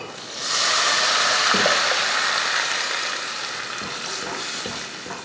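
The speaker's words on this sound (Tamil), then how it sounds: "இப்போ இதில் நம்ம கலந்து வச்சோம் இல்லையா மசாலா, அதையே இதில் சேர்த்துடலாம்." Mixed masala hits frying onions in a pan for fish curry and bursts into a loud, close hiss that swells suddenly, then settles into a steady sizzle with faint stirring knocks.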